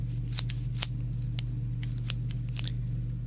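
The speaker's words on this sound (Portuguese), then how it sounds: "A tesoura, tá certo?" Scissors snipping close by, a handful of sharp, crisp cuts spaced irregularly over a steady low hum, with no talk.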